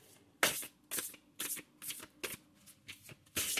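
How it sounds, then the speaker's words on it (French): Large oracle cards are shuffled in a steady series of about eight crisp riffling bursts, close and fairly quiet, with brief pauses between each pass and no talk. "Les cartes sont assez grandes, donc c'est pour ça que je les bats dans ce sens-là."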